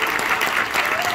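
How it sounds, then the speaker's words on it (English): A crowd gives a steady, close round of applause for a vocal coach at the wrap-up of a week-long spring break program, a brief, unbroken wash of clapping. "Let's give him a round of applause."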